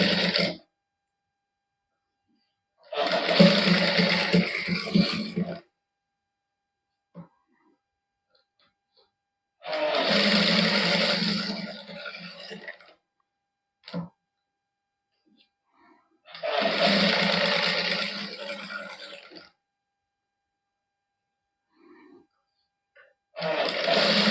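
A sewing machine stitching lace onto a sleeve runs in three bursts of a few seconds each, loud and close, with quiet gaps between them.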